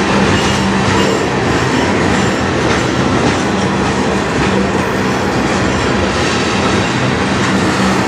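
A CN manifest freight train with CN 3195, KCS 4861 and CN 2137 locomotives passes at close range in Sarnia, Ontario, giving a loud, continuous rolling roar of wheels and cars throughout.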